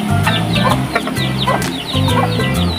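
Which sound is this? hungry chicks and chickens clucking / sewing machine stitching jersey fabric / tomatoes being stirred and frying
hungry chicks and chickens clucking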